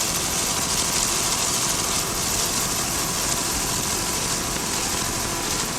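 A 33-foot Phantom offshore race boat powered by twin 500-hp Mercury inboards at the 1999 Fort Myers race, giving a loud, continuous, dense engine roar that holds steady throughout, with no voices.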